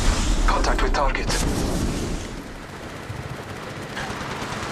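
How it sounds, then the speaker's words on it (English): Gunfire and explosive bursts in the battle royale game Apex Legends Mobile, with loud rapid shots and booms up close that thin out into a steady rumble of in-game noise. "Shots fired at me."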